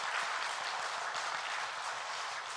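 A church congregation at a Bible-study graduation service applauds the graduates. The clapping is steady and fairly soft and rolls on evenly without pause.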